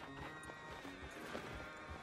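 A horse in Red Dead Redemption 2 gives a short whinny mixed with clip-clop hooves and snorting during a riding mission, brief and close with no talk over it.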